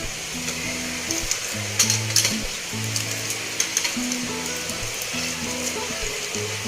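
Tempering spices such as bay leaf, cinnamon and peppercorns sizzle in hot oil for a Gujarati paneer dhokli curry, a steady close hiss with small crackling pops and a low hum underneath.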